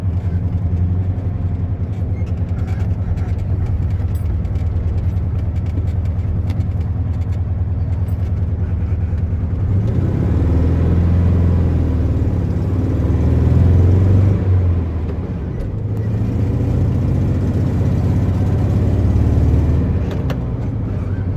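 A 1971 VW Beetle 1300 cruises in third gear over a stony road, its engine giving a steady low rumble that swells slightly midway and holds throughout.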